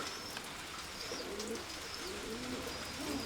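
Soft pigeon cooing repeats a few times against steady outdoor background noise in the rain, with faint bird chirps mixed in.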